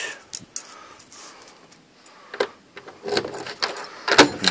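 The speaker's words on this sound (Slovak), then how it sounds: "Ja musím nájsť presný kľúč." A bunch of keys jangling in irregular bursts nearby while someone searches for the right key for a double door, with short quiet gaps between the clinks.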